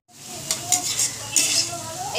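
Rice frying in a pan at home, with a metal spatula stirring and scraping against the pan in several quick clinks over a low sizzle, close and brief, with no voices.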